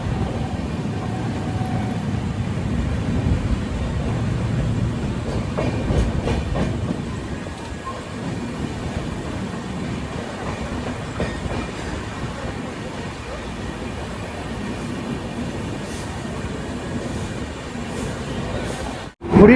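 The Howrah to Puri Superfast Express, train 12837, runs at night, a loud, close, continuous rumble of wheels and carriages with faint rhythmic clatter, ending in a sudden sharp burst.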